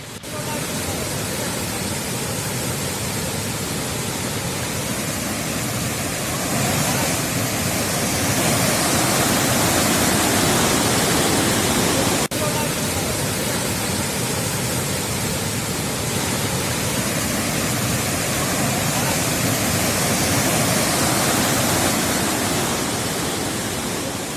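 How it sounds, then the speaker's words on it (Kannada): Kallathagiri waterfall in Tarikere taluk, Chikkamagaluru district, is overflowing after heavy rain, producing a loud, steady roar of rushing water that fills the whole stretch without a break. "ಪ್ರಸಿದ್ಧ ಕಲ್ಲತ್ತಗಿರಿ ಜಲಪಾತ ಉಕ್ಕಿ ಹರಿತಾ ಇದೆ"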